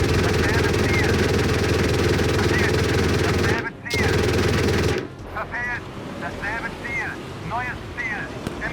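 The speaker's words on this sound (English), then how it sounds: "I'm gonna switch to my MG" Marder 1A infantry fighting vehicle machine gun firing in the Gunner HEAT PC game, a dense, loud stream of rapid shots with a brief pause, then lighter intermittent sounds as a voice talks over it.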